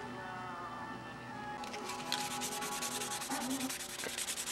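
Rhythmic back-and-forth rubbing of wet 600 grit sandpaper on a model airplane part, starting after a quiet moment and continuing in quick, even strokes.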